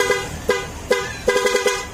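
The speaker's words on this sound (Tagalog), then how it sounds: "kung sakaling mag-install kayo ng ng ganyang mga busina, yung Nitri Music Pro" A popop-style aftermarket horn fitted to a Honda Click 125 V3 scooter honks in short, loud, close toots, two single blasts then a quick rhythmic burst of four, with a faint engine hum underneath.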